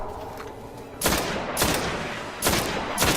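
Gunfire in the video game Destiny, with loud close bursts of shots breaking in at intervals over a steady rumbling game backdrop, no talk.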